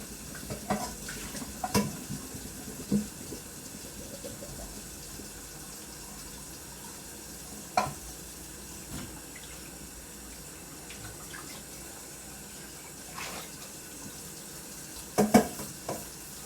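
Steady running water from a kitchen faucet while a dish is washed and scraped, with occasional sharp clinks and scrapes of the dish over the constant flow.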